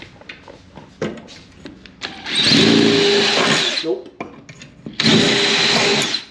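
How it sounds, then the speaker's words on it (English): Two long bursts of a power drill whining loudly as it drills into a wall, about a second and a half each, with a short spoken word and scraping handling noises between them. "we're going to drill on each side"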